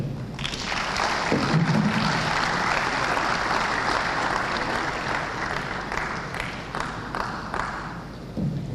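Dense, sustained audience applause fills a hall at a South East venture capital program event in Enugu, steady and loud throughout with a few heavier thumps within the clapping.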